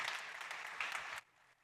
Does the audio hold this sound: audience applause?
yes